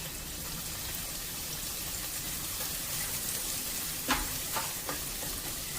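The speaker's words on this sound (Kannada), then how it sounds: "ಇದು ಬಿಸಿಯಾದ ನಂತರ ಸ್ವಲ್ಪ ಈರುಳ್ಳಿಯನ್ನ ಹಾಕ್ತಾ ಇದ್ದೀನಿ." Onions dropped into hot ghee in a pan sizzle with a steady, dense frying hiss, plus a few brief louder crackles and pops near the end, close up with no talking.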